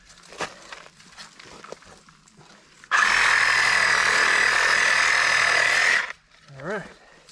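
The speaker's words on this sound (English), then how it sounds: "Gotta love a Sawzall. You can do anything with it." A Sawzall reciprocating saw cuts through thick bamboo stalks in one loud, steady burst of about three seconds, with quieter handling and movement before and after.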